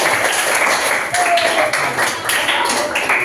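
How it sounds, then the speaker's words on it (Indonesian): A class of junior high students in Kupang applauds, dense clapping filling the room steadily for a few seconds with voices chattering underneath. "Kasih tepuk tangan dulu."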